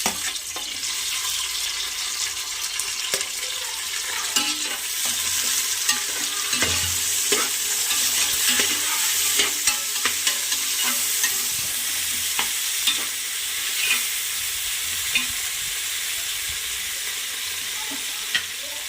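Onions and tomatoes sauté in a pan for a Sunday chicken biryani, giving a loud, continuous sizzle with frequent scraping stirs, close by and with no talk.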